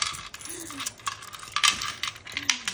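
Coins clink and jingle as they tumble from a piggy bank, a close run of metallic rattles and a few bright ringing hits.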